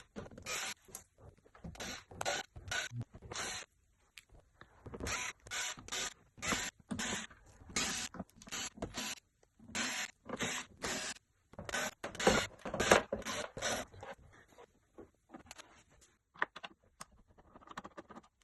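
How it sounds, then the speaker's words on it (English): Screws being removed from the back of a lightning-damaged Samsung TV, heard as repeated close, crisp bursts of ratcheting and squeaking screwdriver turns separated by short pauses, with no speech. "So let's proceed to removing all the screws."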